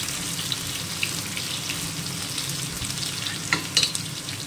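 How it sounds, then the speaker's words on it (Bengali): Ridge gourd and potato frying lightly in a pan give a steady, close sizzle throughout, with a few sharper clinks and splutters near the end. "ঝিঙে আলুটা একটু হালকা করে ভেজে নেব, একদম হালকা করে ভেজে নিচ্ছি।"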